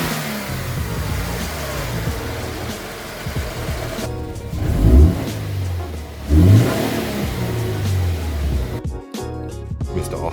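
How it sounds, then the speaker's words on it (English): A Subaru BRZ fitted with a Mishimoto air intake revs repeatedly, its engine climbing and falling in a few loud surges over a steady running drone, close to the microphone. "Now let's start the car. See what the intake sounds like."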